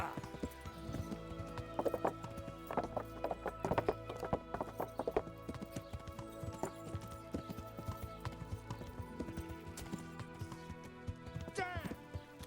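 Horse hooves clip-clopping steadily at a walking pace in the medieval game Kingdom Come: Deliverance, with a whinny near the end, set over a continuous musical score and ambient backdrop.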